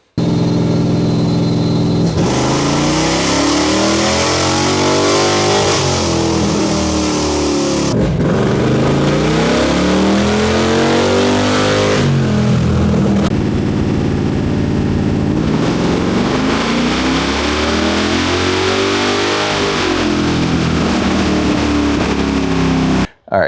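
A 1974 Plymouth Cuda V8 with ACES EFI, run through repeated full-throttle pulls with Hall effect, HEI and magnetic pickup distributors: loud engine roar rising in pitch over several seconds, dropping, then climbing again in successive sweeping runs.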